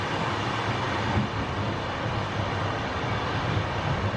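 Steady interior rumble aboard a Spanish-built UTS 444 passenger train running between Santiago and Curicó in Chile, a continuous broadband roar of wheels and motion with no voices.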